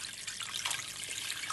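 Water pours steadily into a cooking pot for a stew, three liters of it, a constant close splashing trickle with no talk over it.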